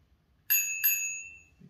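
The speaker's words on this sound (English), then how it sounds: "We've got Ellie a little bell too." A small bell on a girl's Viera 40cm vintage cruiser bike rings twice in quick succession, bright and close, each ding ringing out and fading over a quiet background.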